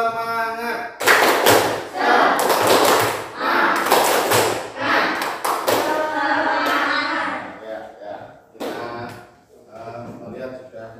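A class of children claps a rhythmic chant routine, loud sharp clap bursts in a steady pattern with shouted group voices, close by, repeating through most of the stretch before fading into scattered claps.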